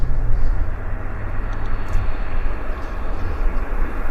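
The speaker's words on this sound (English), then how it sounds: "There goes our Embraer." An Embraer jet rolls down the runway on its takeoff run at Vancouver Airport, a loud, steady broadband engine roar that holds strong throughout at a distance, with no speech.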